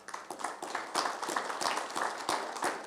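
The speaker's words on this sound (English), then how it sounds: "give that chef a round of applause." A crowd claps steadily for a few seconds, a dense, fairly faint patter of applause with no voices.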